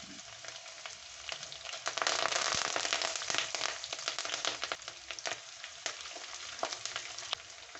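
Ginger, garlic, green chillies and curry leaves frying in a pan for a lemon-dates pickle: close, continuous sizzling with dense crackling and popping that surges partway through and then settles.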